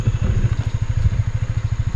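Motorcycle engine labours up a steep mountain road toward Mount Cristobal, a loud close throbbing exhaust pulsing rapidly and steadily under strain, with no voices over it.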